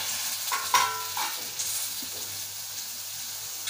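A spoon scrapes and stirs red pumpkin curry, a Malvani-style bhaji, in a pan, with a few close clinks and scrapes over a soft, steady sizzle of frying.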